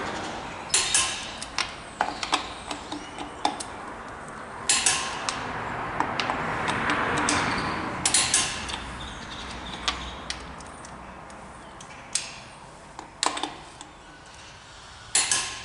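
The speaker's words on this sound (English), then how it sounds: "just go to the click, and now you know all the bolts are torqued correctly" A torque wrench tightens the wheel bolts on a vehicle resting on the ground, giving sharp, close metallic clicks and ratcheting creaks in irregular bursts, separated by quieter handling noise, with no speech.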